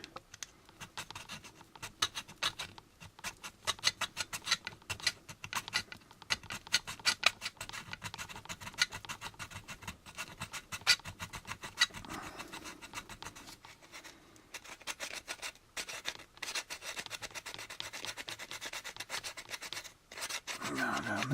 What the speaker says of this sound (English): Or you could use your file here, which is probably a better idea.